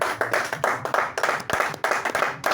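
A church congregation claps together in acclaim of the Lord, with firm, rhythmic bursts of many hands repeating close and loud throughout, and no voices over it.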